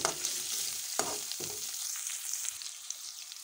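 Chicken frying with browned onion and cabbage in a pan, a steady close sizzle with a few scraping stirs early on, then settling into an even hiss.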